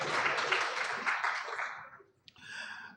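Audience at a fintech conference breaks into sustained applause after results are announced, dense clapping for about two seconds before fading, then a brief pause and softer murmuring.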